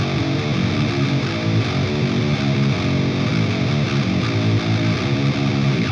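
A gritty, heavily distorted electric guitar played through a distortion pedal plays a steady, repeating riff, loud and dense throughout with no voices.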